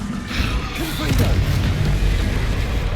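A deep booming blast from the Confringo fire spell in Hogwarts Legacy, loud and rumbling as one explosion swells and lingers, with a voice speaking over it.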